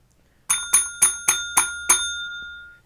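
A signal box block bell strikes a bell code: six sharp, bright metallic dings in a quick, slightly uneven sequence, each ringing briefly before the next, close and clear with nothing else around.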